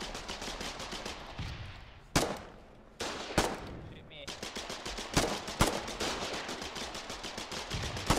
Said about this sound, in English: Get suppressing fire on that foxhole.